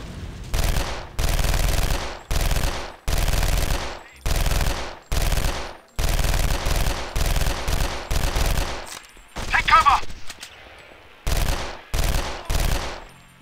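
Bursts of automatic gunfire in the shooter game Contract J.A.C.K, about a dozen loud sustained volleys separated by brief pauses, with a short different sound mid-way.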